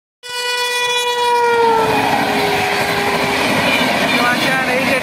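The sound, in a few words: passenger train passing, bound for Howrah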